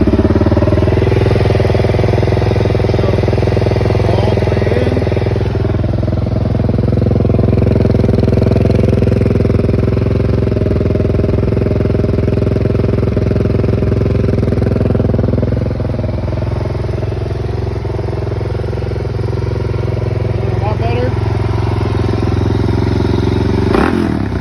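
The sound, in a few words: Suzuki DRZ 400 SM motorcycle engine with Black Widow exhaust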